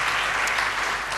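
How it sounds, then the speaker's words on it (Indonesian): A brief burst of congregation applause during a church service, loud and dense clapping with no pause across its short span. "Beri tepuk tangan bagi dia."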